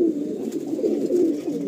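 Madrasi pigeons coo in a loft at Bankra, Howrah, a close, continuous overlapping murmur of low rolling calls with no talk.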